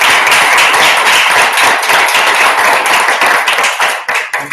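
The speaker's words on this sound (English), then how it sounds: "So a big round of applause for Mark." An audience at a Toastmasters club meeting applauds, a dense, loud burst of clapping that holds steady for about four seconds before thinning out toward the end.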